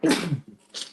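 A single sneeze bursts out loud and close during an interview, followed by a short quieter breath and a brief hissy tail.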